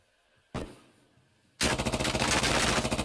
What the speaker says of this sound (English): Firing down through the floor again.